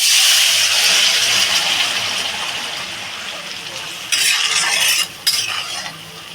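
Bengali curry being poured into a pan of browned garlic, a loud continuous sizzle and stir that eases, then bursts of pouring splash and utensil noise; no voices.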